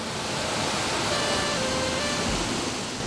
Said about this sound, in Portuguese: É ela que sustenta a formação de quedas d'água que nos surpreendem à medida que exploramos a região.